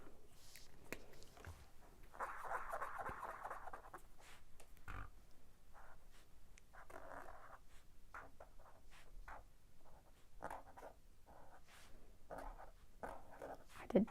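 A Sharpie acrylic paint marker scratches across paper in short strokes and scribbles, quiet and close, with small pauses and handling noises between.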